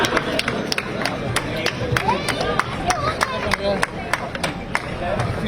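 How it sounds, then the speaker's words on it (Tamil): A crowd at a marathon in Salem claps for the race winners, dense rapid applause with sharp hand claps close by, while an announcer speaks over it through a loudspeaker throughout. "ஒரு பெரிய கைத்தட்டல் கொடுத்துடலாம்"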